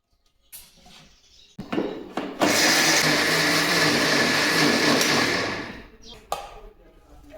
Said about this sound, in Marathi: आता मी हे गहू इथे मिक्सरमध्ये बारीक करून घेते.